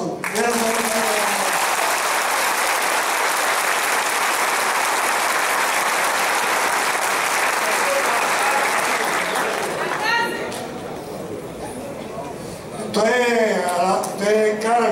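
A rally crowd bursts into loud, sustained applause for about ten seconds, then fades as a voice begins speaking, with a short renewed swell of clapping and cheering mixed under his talk near the end.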